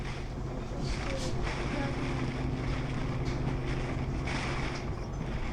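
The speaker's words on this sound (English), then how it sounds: "Oh, the hurricane" Hurricane-force wind roaring continuously over a Florida coastline with surf, a steady loud broadband rush buffeting the microphone throughout, with faint voices underneath.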